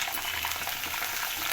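Round-cut potato slices dropped into hot oil with curry leaves, a steady close sizzle and crackle of frying that runs evenly throughout with no voices.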